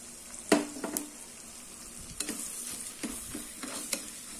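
Broken rice stirred into onions frying in a pan for tomato rice upma, with a steady sizzle broken by several sharp scraping stirs and clinks close by.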